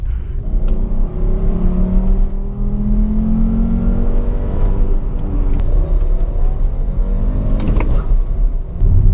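An MK6 car engine fitted with a USP cold air intake revs loudly and close, its pitch rising and falling through a long rumbling run, with a sharper rev near the end.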